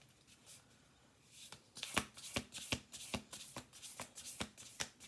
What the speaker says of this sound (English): We're doing one more shuffle.